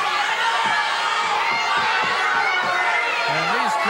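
A wrestling arena crowd grumbles and murmurs in a dense, steady wash of chatter and scattered shouts, with a commentator's voice partly audible over it.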